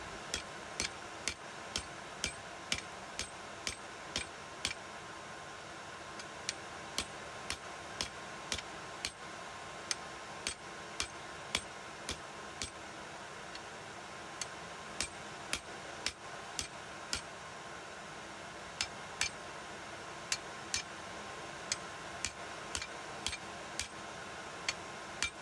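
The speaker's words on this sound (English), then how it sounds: "let's just try it on this big concrete slab that I've got in front of me with the big lump hammer" Sharp lump hammer blows striking scrap metal on a concrete slab, forging it toward a knife, repeated at a steady pace for a long stretch, fairly faint and with no voices.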